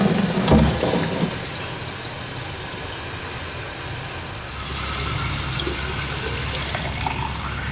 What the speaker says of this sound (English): Now we're going to fill the pipe.